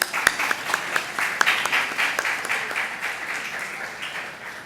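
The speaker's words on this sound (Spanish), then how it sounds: "Un aplauso para ella, por favor." A crowd applauds with a burst of sharp claps at first, then a steady patter of clapping that gradually thins out.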